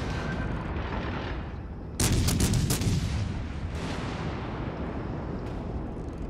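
Heavy naval gunfire aimed at a Bismarck battleship in World of Warships: a sudden loud booming salvo with sharp cracks, trailing into a long rumbling decay over continuous background noise.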